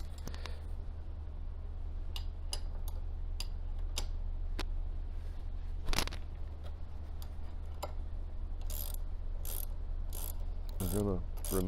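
A crescent wrench loosens the hex cap on a trigger valve clamped in a vise, giving a series of sharp metallic clicks and ratcheting ticks over a low, steady background hum, close and fairly quiet.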